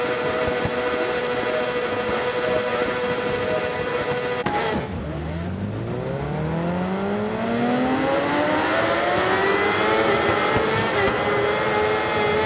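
Kawasaki ZX10R superbike racing in a video game: a steady high engine drone is cut off by a sharp shift, then loud engine revs climb again in a long sweep of acceleration.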